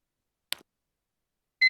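A phone security alert in the Nancy Drew: The Captive Curse video game gives a short, bright electronic beep that stands alone in near silence, with a faint brief tick shortly before it.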